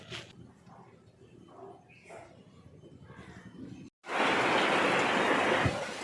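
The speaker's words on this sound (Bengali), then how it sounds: "এখনই বৃষ্টি নামলো।" Rain suddenly begins pouring over a home vegetable garden, a loud, dense, steady wash of noise that cuts in after a few seconds of quiet voices and stays strong to the end.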